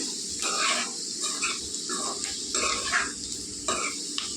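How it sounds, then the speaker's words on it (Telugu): Tender fenugreek leaves fry quickly in a pan for a potato stir-fry. A low sizzle is broken by bursts of stirring and scraping that come every second or so. "చూసారా, ఊరికే వేగిపోద్దండి మెంతి కూర."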